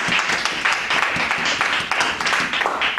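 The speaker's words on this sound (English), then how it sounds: "Give her another hand clap of praise." A church congregation gives a round of applause, a dense burst of many hands clapping together, close and loud, lasting about three seconds with no talking over it.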